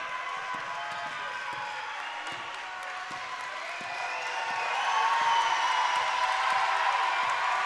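Crowd noise at a girls basketball state championship game, a dense roar that rises and holds louder, with faint squeaks and thumps from the court underneath.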